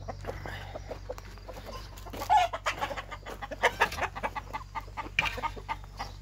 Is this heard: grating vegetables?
no